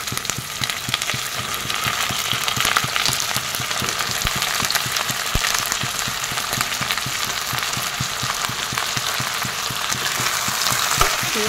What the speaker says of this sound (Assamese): ইয়াতে এতিয়া মাংসখিনি দি দিম